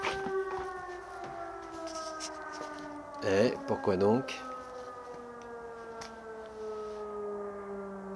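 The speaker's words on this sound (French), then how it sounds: "Et à la sirène qui sonne." Civil defense-style siren sounding at the close of Shabbat, a steady wailing tone running throughout at moderate distance, with a brief burst of speech in the middle.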